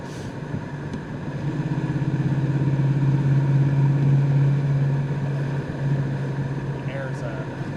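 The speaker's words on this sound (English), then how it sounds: "Do a little third gear pull. Flowmasters sound real good behind the 5-liter" A 1990 Ford Mustang GT with a 5.0-liter V8 and Flowmaster exhaust pulls hard in third gear, its deep burbling drone swelling in loudness and then easing off, steady under a wash of road and wind noise.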